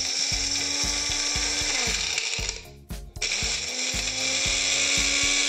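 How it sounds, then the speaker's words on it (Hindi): Electric grinder grinding wheat and jaggery into powder for ladoo: a loud, close mechanical whir with rhythmic pulsing rattles, a brief stop-start dip in the middle, then it continues at full power. "अब बस इसमें ग्राइंडर में ग्राइंड करना है, थोड़ा स्लोली स्लोली करेंगे और इसका अच्छा सा पीस के पाउडर बनाएंगे"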